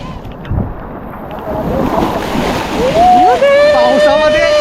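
Sea waves and splashing at Aare Ware beach in Ratnagiri on the Konkan coast in rain, a loud continuous rush of surf and wind, with people talking and shouting over it.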